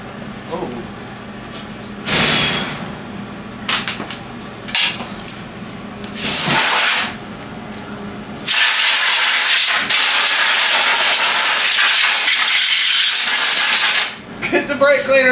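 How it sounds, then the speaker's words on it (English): Brake cleaner spray catching fire during a Club Car golf cart drift conversion, giving loud sustained hissing bursts that build into a long roaring hiss near the end, with people reacting in the background. "This is a brake cleaner, caught on fire."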